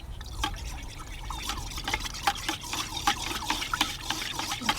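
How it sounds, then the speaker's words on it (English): Liquid sloshes and drips close by as a water-based solution is stirred in a container, with irregular splashy stirring strokes continuing steadily and no talking. "We're going to mix it. I'm just going to use this to mix."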